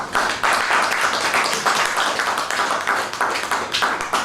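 An audience at a savings conference claps continuously, a dense patter of many hands with an uneven rhythm that stays loud throughout.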